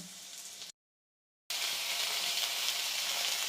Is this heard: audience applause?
no